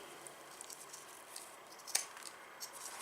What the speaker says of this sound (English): I'm gonna take my pinking shears, and I start with my corner.